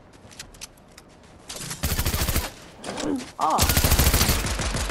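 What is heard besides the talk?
shotgun firing in Fortnite video game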